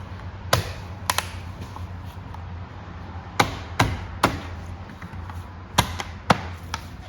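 Plastic A-pillar trim piece on a 2015 Ford Explorer pressed into place, giving about eight sharp, separate snapping clicks spread irregularly over quiet background.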